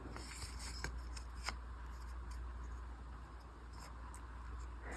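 Small scissors snip a bracelet cord near a steady background hum, a few faint, brief cuts that are barely audible, with no talking.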